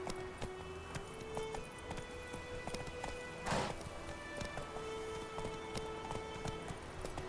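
Roach the horse in The Witcher 3 moves along with a steady, fairly quiet clip-clop of hooves, broken midway by a brief rush of noise.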